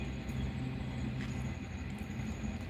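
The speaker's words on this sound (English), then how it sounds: "sections wherein the train going to the opposite direction can stop and let the other train" An Arctic passenger train on the Norway to Stockholm, Sweden line rumbles along heard from inside, a steady close roll of wheels on rails with light rattles and a brief squeal.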